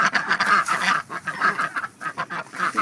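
Several pet ducks, a group of hens in their pen, quack and chatter in a busy overlapping flurry, close by and fairly loud throughout.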